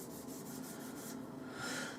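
A knife handle is sanded with 80 grit Abranet mesh, making quick rhythmic rasping strokes close up, fairly quiet, with a slightly longer rub at the end.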